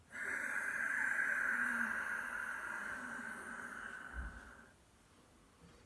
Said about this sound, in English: That lovely Ujjayi breath.